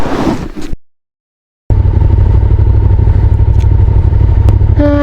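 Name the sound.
motorcycle engine with stuck throttle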